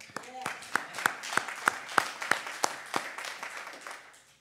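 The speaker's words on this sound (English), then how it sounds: "Can we give him a hand clap?" A congregation at a church service gives a brief round of hand claps: about ten clear, evenly spaced claps that fade out toward the end, fairly close, alone without talk.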